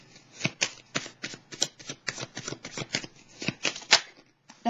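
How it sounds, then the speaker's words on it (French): Cards from an Oracle Belline deck being shuffled and handled during a tarot-style reading, a quick run of close, crisp riffling flutters in an uneven rhythm with no talk over it. "Je vais piger tout de suite une carte du Béline pour comprendre."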